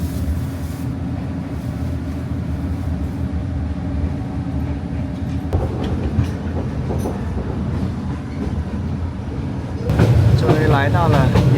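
An overnight train in Vietnam nearing the northern border town of Lao Cai rattles steadily along the rails, a continuous close clatter and rumble that swells louder toward the end.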